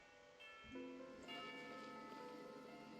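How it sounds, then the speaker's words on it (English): A single bell in a video game struck once and left ringing with a long, bright, sustained tone that slowly fades, faint and alone. "You hear the sound of a bell."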